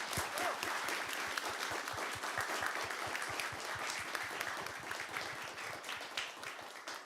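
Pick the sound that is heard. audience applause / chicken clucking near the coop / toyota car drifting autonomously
audience applause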